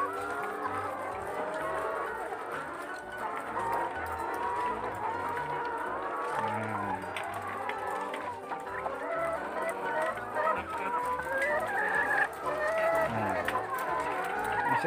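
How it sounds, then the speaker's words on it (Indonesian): Around five hundred chickens feeding inside a poultry coop make a dense, continuous clucking and chattering at close range, with people talking over the flock throughout. "Ayamnya pada makan. Ini sekitar 500-an ekor."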